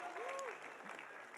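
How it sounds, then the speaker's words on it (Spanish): An audience applauds at an event honoring a mixed volleyball team, a brief, soft wash of clapping from a crowd with some faint voices mixed in. "Un aplauso aquí para nuestra super selección de voleibol mixto."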